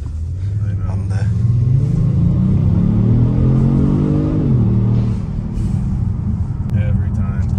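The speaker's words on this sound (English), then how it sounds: "This engine's so well balanced, don't you think?" A Kia, Hyundai or Genesis engine revs up steadily for several seconds in a rising, sustained rumble before dropping back to idle, heard up close with people talking nearby.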